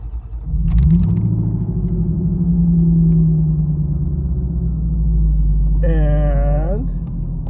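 A 1991 Chevrolet Corvette ZR1 engine runs at a steady idle, a deep, loud, continuous rumble close by, with a short higher tone rising over it near the end.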